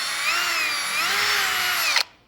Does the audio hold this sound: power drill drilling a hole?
yes